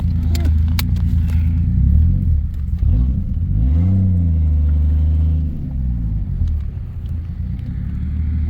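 Mk3 car engine rumbling steadily from inside the cabin while driving, with a deep low drone that swells as the revs climb and ease back, loud and continuous throughout.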